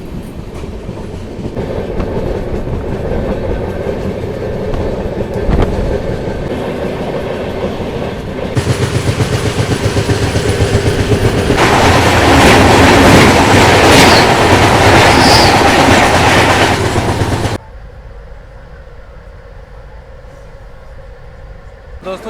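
A Chennai–Bangalore double decker express pulling out of Bangarpet station after a two-minute halt, with a loud steady rumble and rhythmic clatter of wheels on rails that builds, then drops abruptly to a quieter interior hum; someone talks over it.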